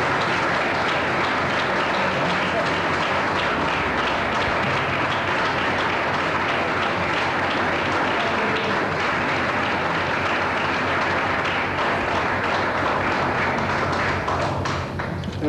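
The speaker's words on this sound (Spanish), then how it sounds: "Que no tomen el aplauso como un acto de frivolidad, tómenlo como un acto de cariño" A crowd applauds steadily and loudly in Buenos Aires as the body of actress Alicia Bruzzo leaves for the Chacarita cemetery, with continuous dense clapping throughout and no pause.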